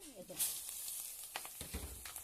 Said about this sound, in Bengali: এর মধ্যে দিয়ে দিব তেজপাতা, পাঁচফোড়ন। এর মধ্যে দিয়ে দেব তেলের মধ্যে